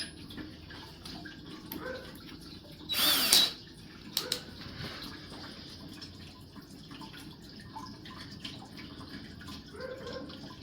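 A power drill bores briefly into a sled ski with a drill bit, one short loud whine burst followed by a couple of quick blips, set against a quiet workshop background.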